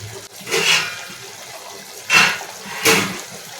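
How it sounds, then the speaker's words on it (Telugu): A small glass of water splashes into a simmering chicken curry in three short bursts, each a brief rushing gush separated by quieter pauses. "చిన్న గ్లాస్ వాటర్ పోయాలి."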